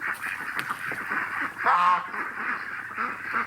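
Ducks quack nearby on a horse farm during rotational grazing, a few loud nasal calls rising over steady outdoor background noise.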